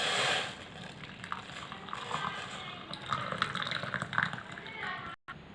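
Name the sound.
straining tulsi kashayam decoction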